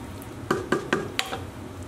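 Spoon stirring canned kidney beans through a pot of lamb ghorme sabzi stew: three close, evenly spaced scraping strokes followed by a couple of lighter clinks against the pot, fairly quiet with no talking.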